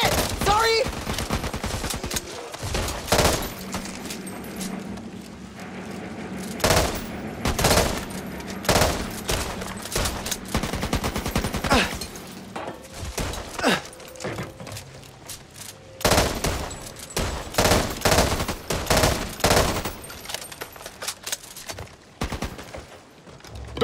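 Back 4 Blood gameplay with repeated bursts of gunfire, rapid volleys and single shots stacking up loudly throughout, with a few short gaps between the firing.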